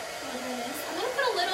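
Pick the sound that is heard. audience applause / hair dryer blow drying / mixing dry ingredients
hair dryer blow drying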